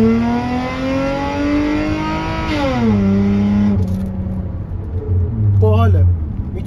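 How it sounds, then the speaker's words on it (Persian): A car engine revs up loudly, pitch climbing then dropping back, followed by a second short blip of the throttle, with a voice talking over it. "یه بار دیگه گاز بدیم"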